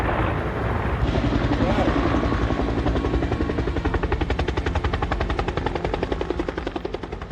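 A firefighting helicopter flies overhead with a loud, steady rhythmic rotor thump and engine whine filling the whole clip.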